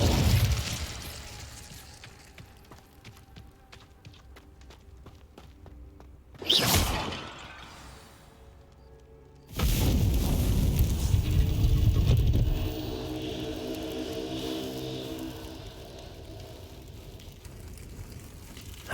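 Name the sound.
Incendio fire spell cast, from video game Hogwarts Legacy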